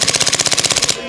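A fast machine gun firing 9mm rounds lets off a rapid burst of about a dozen evenly spaced shots at a very high rate of fire, loud and close, ending abruptly.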